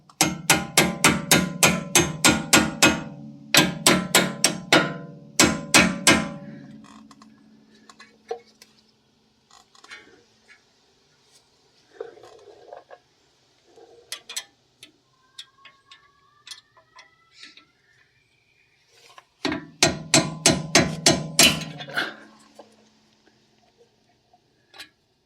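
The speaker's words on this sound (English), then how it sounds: "Hammer these in." Sharp metallic hammer blows driving brake parts into a Porsche 944, struck in quick rhythmic bursts of about a dozen hits, a pause with faint shop clatter, then another fast run of close, loud strikes.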